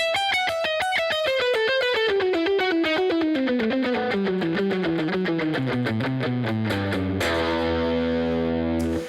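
A heavily distorted electric guitar plays a neoclassical lick slowly, steadily descending note by note, then settles onto a low sustained chord near the end.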